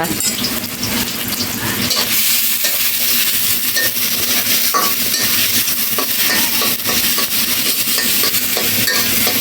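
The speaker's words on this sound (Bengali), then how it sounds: "এই তো এখন আমরা পেঁয়াজটা ভালো করে লাল লাল করে ভেজে নিব" Onions frying in a pan until browned, with a loud, continuous sizzle and frequent stirring scrapes close by and no voices.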